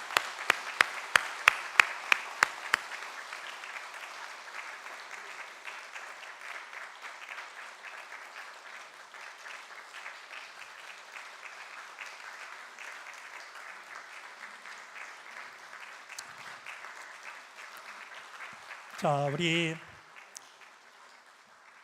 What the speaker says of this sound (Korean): 따뜻한 박수로 두 사람을 환영해 주시기를 바랍니다